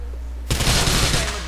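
Gunfire in the video game GTA IV erupts suddenly after a brief quiet moment, a loud sustained burst of rapid shots and echoing blasts over a low game hum.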